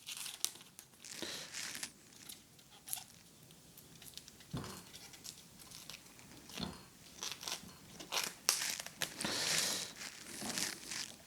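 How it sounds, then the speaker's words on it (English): The outer leaves are peeled off a cabbage by hand, producing soft, close crinkling, crunching and tearing sounds in irregular bursts with quiet pauses between them. "You want to peel off the outside leaves and put them aside"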